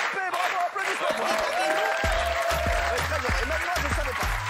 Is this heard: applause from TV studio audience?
yes